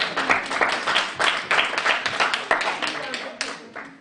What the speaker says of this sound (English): Give them all a big warm round of applause.